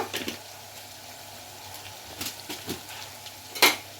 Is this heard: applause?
no